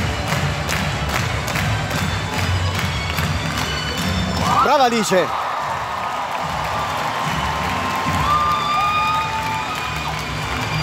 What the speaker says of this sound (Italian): Ora io non lo so per chi era questo applauso